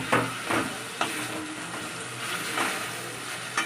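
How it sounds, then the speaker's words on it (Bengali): Spice paste frying in a pan at home, a soft continuous sizzle with a handful of scraping stirs at irregular intervals, fairly faint and with no voices. "মশলাটাকে একটু কষিয়ে নেবো, কষিয়ে দেবো"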